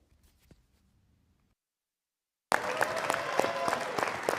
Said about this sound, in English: Another huge Rebel round of applause and congratulations, Sarah Busman, School of Public Health Alumn